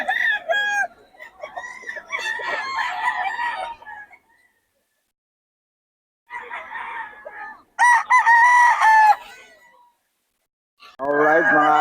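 Quality roosters at a Bocaue market crowing loudly and close, several long cock-a-doodle calls in succession with short gaps and some clucking mixed in.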